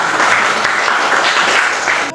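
Children clapping their hands together in a classroom lesson, a dense, loud, continuous patter of many small hands that holds steady for about two seconds before tapering at the end.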